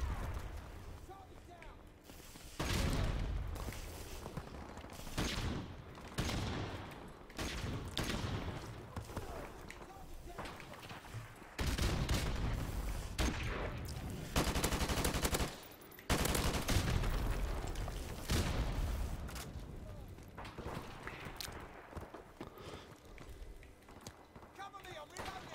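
Gunfire bursts in Call of Duty Modern Warfare Remastered during a team deathmatch on the Vacant map, loud repeated volleys and impacts in uneven clusters across the whole stretch, with a voice talking over parts of it.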